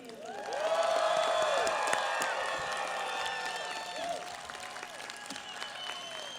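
Commencement audience cheering and applauding at a Chico State graduation, a loud, sustained wash of clapping with whoops and shouts that swells early and then gradually thins over several seconds.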